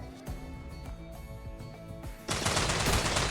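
Gunfire in the colony strategy game Rimworld, a few sharp shots followed by a dense, loud burst of rapid automatic fire near the end, with no voices over it.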